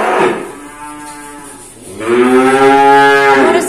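A young Limousin bull at a cattle dealer's pen gives two loud, close, drawn-out moos, the second deeper and longer, with no talking over it.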